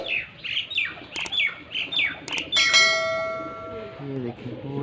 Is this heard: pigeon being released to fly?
yes